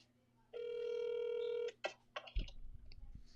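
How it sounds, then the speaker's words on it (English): A phone call goes out, with a steady electronic ring tone lasting about a second, then short clicks and a burst of handling noise, heard faintly and close. "I'm calling her on the phone."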